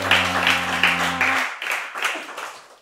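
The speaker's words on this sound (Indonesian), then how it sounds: "boleh kasih tepuk tangan buat Om." An audience at a podcast talk session applauds a speaker with a short burst of scattered hand claps that fades out, over a low hum that cuts off midway.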